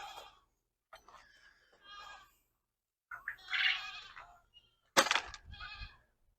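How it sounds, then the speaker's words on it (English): Several goats on a farm bleat in short, wavering calls, some nearby and loud, others softer, separated by brief silences. "So let's go check on the goats."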